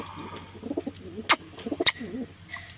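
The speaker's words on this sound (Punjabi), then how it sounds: "ਚੱਲੀਆਂ ਦੋਨੇ ਕਬੂਤਰੀਆਂ ਜੀ ਅੰਡਿਆਂ ਤੇ ਉਹ ਪਹੁੰਚ ਗਈਆਂ" Two pigeons settling onto their eggs coo softly in a short series of low, rounded calls, with a couple of sharp clicks or taps cutting in nearby.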